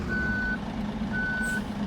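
A bus in a mobile bus simulator game sounds two evenly spaced reversing beeps, clear tones over a steady low engine hum.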